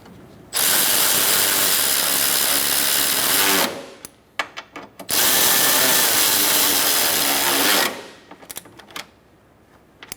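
A power tool runs down radiator mounting bolts on a 2014–2019 Kia Soul 1.6L, two long continuous whirring bursts of about three seconds each, each followed by short clicking and ratcheting sounds, close and loud with no talk.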